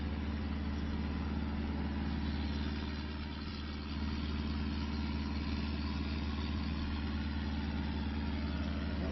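A tractor fitted with a pallet fork idles in Farming Simulator 25, a steady low, even engine rumble with a brief dip in level partway through and no talk.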